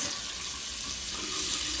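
A newly installed bathroom faucet runs in a steady, close, unbroken stream that splashes into the sink, with no voices over it.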